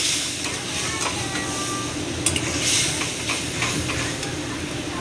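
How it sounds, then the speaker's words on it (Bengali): A spice mix of salt, turmeric, chili, cumin and coriander, loosened with a little water, sizzles and hisses steadily in a hot pan while a spoon scrapes and stirs through it, with occasional sharper clinks against the metal. "এবার মশলাটাকে ভালো করে কষিয়ে নেব।"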